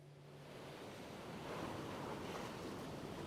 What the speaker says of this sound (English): Strong waves continue to pound the shore